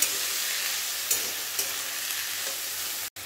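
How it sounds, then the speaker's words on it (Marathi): Cluster beans fry in oil while being stirred, producing a steady, dense close-up sizzle with a few soft scrapes, broken by a brief dropout near the end; nobody speaks. "सर्व गवार घातल्यानंतर हे हलवून घ्यायचं आहे।"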